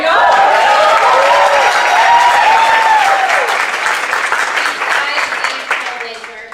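Audience at a panel talk during a train-the-trainer conference breaks into loud, sustained applause that fills the room, then gradually thins out toward the end, with some voices mixed into the clapping.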